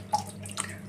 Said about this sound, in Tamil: இதை நல்லா தண்ணியில் அலசணும்.